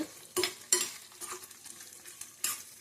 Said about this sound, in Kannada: ಮೀಡಿಯಮ್ ಉರಿಯಲ್ಲಿ ಇಟ್ಟು ಫ್ರೈ ಮಾಡ್ಕೊಳ್ಳಿ